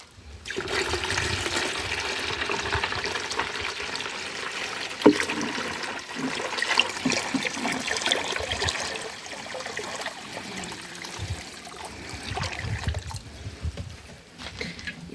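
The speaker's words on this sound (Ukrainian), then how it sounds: "Переливаю цей розчин у відро і довожу до об'єму 10 літрів." A liquid garden solution is poured into a bucket and topped up to ten litres, a continuous close splashing and trickling that rises and falls unevenly as the water keeps running.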